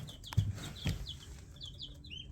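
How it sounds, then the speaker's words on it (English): Young chicks and turkeys on a small farm give faint chirps and peeps, scattered across a couple of seconds with a few soft thumps, quiet and somewhat distant. "Our 13 chicks and 2 turkeys."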